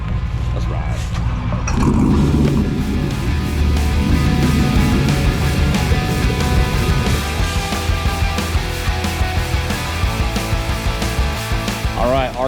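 A hot rod car cruising on the road, its engine droning loud and steady with a brief swell of acceleration early on, while people talk over the ride.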